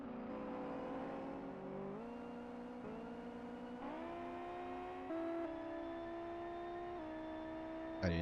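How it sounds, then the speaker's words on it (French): A race car engine in the Live for Speed racing sim during an FTCC championship race: a loud, continuous harmonic whine that climbs steadily in pitch through each gear, with brief dips at the shifts and no voices. "on est dans la voiture de Néon qui va attaquer"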